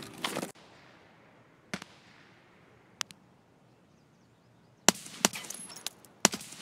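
Gunfire in the Escape From Tarkov shooter game: a short burst at the start, then isolated sharp shots and a tight cluster of cracks near the end, with quiet gaps between, fairly faint overall.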